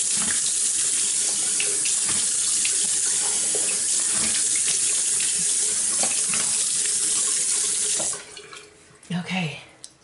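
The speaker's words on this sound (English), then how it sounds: "I pretty much just turn off the heat and just use cold water." Cold water pours steadily from a tap into a sink in a bathroom, loud and close, with splashing, before the flow is shut off near the end, leaving brief handling noises.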